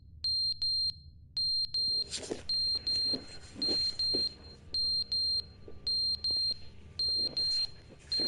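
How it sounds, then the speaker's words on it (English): Electronic alarm in The Stanley Parable video game, sounding as repeated bursts of high, steady beeps in a regular on-off pattern, loud and close over a low ambient hum with scattered thumps. "It's like an alarm or something."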